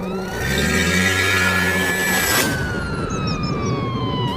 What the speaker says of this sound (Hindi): तभी पुलिस की गाड़ी सुरेश के घर आती है।